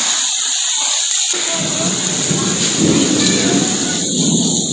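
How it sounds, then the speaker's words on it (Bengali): Thunder rolls low and long through pouring rain, which keeps up a thick, steady hiss throughout, recorded from under the ground-floor veranda of an office building during a fierce storm. "বেশ জোরে বজ্রপাত হচ্ছে"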